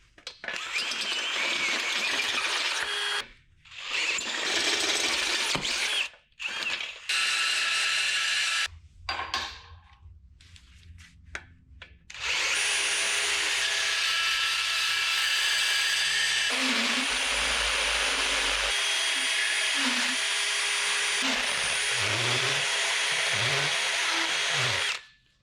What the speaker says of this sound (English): I'll just burr it out with one of those burr bits